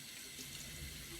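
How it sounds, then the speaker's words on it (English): Water runs from a tap into a sink while makeup brushes are rinsed and scrubbed on a cleaning pad, a faint continuous splashing hiss with no voices. "I keep adding some water to the pad"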